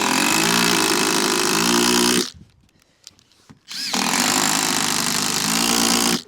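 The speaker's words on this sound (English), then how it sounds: "them screws will power straight through the joist hangers" A power driver drives screws through metal joist hangers on a garden room frame, whining loudly in two long bursts separated by a short pause with faint clicks and handling noise.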